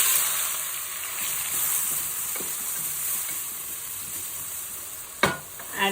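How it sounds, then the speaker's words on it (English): Finely chopped onions fry in hot oil for a prawn curry, giving a steady, close sizzle with faint stirring and a sharp utensil clatter near the end. "Now the oil is heat. Let's add finely chopped onions."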